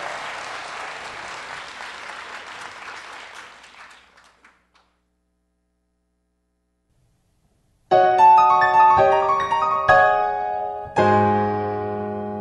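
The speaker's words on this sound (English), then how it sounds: "Let's have a big round of applause for Maria Emirkanian." Concert audience applauds at a Bach to Blues show. The full, steady clapping fades out over about four seconds into silence, then instrumental music with struck, piano-like notes starts loudly.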